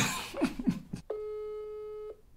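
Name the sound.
telephone line tone while placing a call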